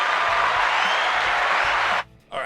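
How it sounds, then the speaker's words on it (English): Applause from a sound-effect button plays as a dense, steady clapping burst that stays loud for about two seconds, then cuts off abruptly. A brief tail of noise follows. "I've been waiting a long time to use the applause button here, and that was my opportunity"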